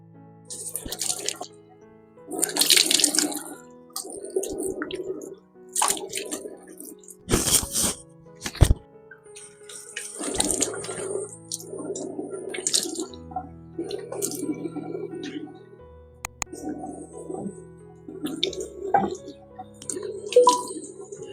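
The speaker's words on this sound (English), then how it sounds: "So I am going to now rinse this off with lukewarm water." Lukewarm running water rinses a skincare face mask off, with splashy, intermittent bursts of water and dripping repeating through the clip, close and moderately loud, alternating with a person talking.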